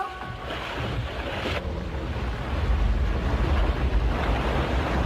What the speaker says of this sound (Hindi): ये जहाज कितनी धीरे चल रहा है।